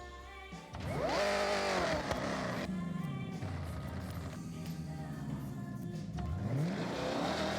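A fully upgraded car in Forza Horizon 5 revs hard, its engine pitch sweeping up, holding a loud droning tone, then climbing again near the end, close and alone without speech.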